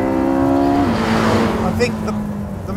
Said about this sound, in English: It feels like I'm driving a mid-engine sports car